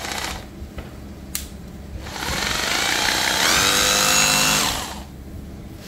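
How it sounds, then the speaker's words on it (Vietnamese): Japanese 620W 100V electric rotary hammer drill running for about two seconds with a loud, steady motor whine, bracketed by quieter handling noise and brief clicks. "Khoan chạy là nghe em im rồi đó."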